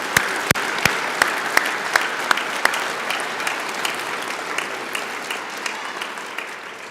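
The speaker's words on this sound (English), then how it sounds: "Let's give those guys a round of applause." Sustained audience applause at a sports hall of fame induction ceremony honoring the staff who helped set up the hall, a broad rush of clapping with one loud nearby clapper beating out a steady rhythm early on.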